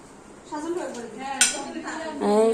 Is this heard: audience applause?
no